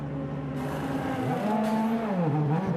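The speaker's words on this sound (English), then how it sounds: "You hear the car, ooh, the sound, it's like accelerating really slow." A DTM race car at the Nürburgring in the rain accelerates slowly, its engine note climbing and dipping in pitch over a broad hiss of spray and rainfall, moderately close, with no talk.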